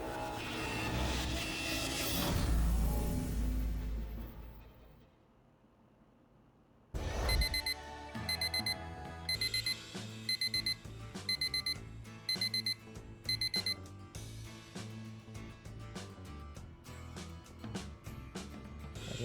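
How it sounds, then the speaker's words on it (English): Alarm clock in a bedroom in the video game DateZ ringing in rapid repeated bursts of bright electronic beeps over game music, after a louder noisy passage and a brief near-silence. "The alarm clock in your room does its best to keep you from missing your first day of school."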